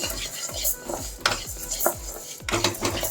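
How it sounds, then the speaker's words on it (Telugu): Barley grains are roasted in a pan, with repeated scraping and clinking strokes of a spoon stirring them, close and fairly loud, over a faint sizzle. "ఈ బార్లీ గింజలు కూడా వేయించుకుందాం."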